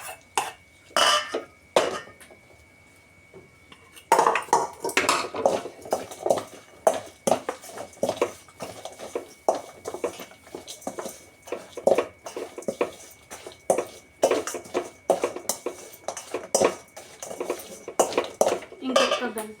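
Ivy gourd chutney is mixed in a bowl with a spoon, giving repeated clattering scrapes and clinks of metal on the dish in uneven bursts, with a voice speaking in the background.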